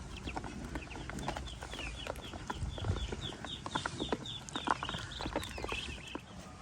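Chickens cluck and chatter in a repeated series of short calls, moderately near, over a low rustling farmyard background in Laos.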